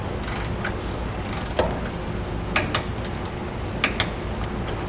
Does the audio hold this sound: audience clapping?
no